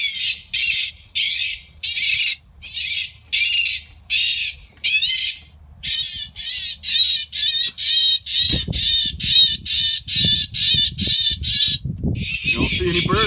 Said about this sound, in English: What you're hearing that is a bird distress system,